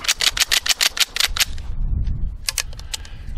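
The slide of a Rossi Gallery .22 pump rifle is worked rapidly with the trigger held back, giving a quick run of about eight sharp metallic clacks up close, then a pause and a few more clicks.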